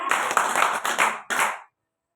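A class of students clapping together in a classroom, several quick rhythmic claps in a burst, a short pause, then one more clap, close and moderately loud, ending in silence.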